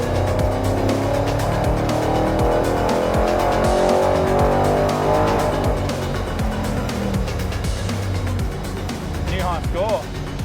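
A modified race-build car on a test track, engine roaring loud and close as it revs, the drone rising and falling, then easing off near the end, with voices talking over it.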